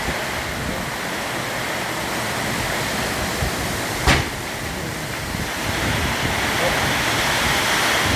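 A violent storm of heavy rain driven by strong wind, with thunder and hail, pours down as a loud, unbroken roaring wash, with one sharp knock midway.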